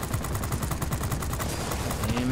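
Aircraft machine guns firing in World of Warplanes, a fast continuous rattle of evenly spaced shots, loud and close for the whole stretch over a droning engine.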